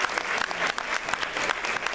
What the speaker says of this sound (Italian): Per un grande applauso al nostro Jimi Hendrix.